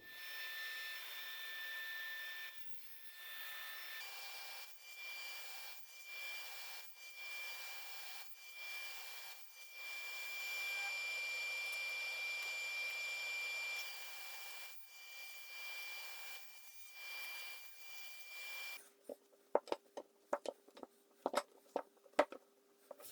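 Cross cuts are made through a glued-up end grain chevron cutting board, a steady whirring saw cut that pauses between passes, followed at the end by a run of sharp, irregular knocks and clatters as pieces are handled.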